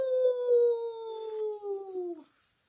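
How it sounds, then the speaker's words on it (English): A dog howls in a long, sliding wail that lasts about two seconds and drops slightly in pitch before fading out, heard alone with no talk. "A dog howled in the distance."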